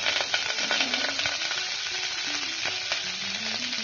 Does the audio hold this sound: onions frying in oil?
yes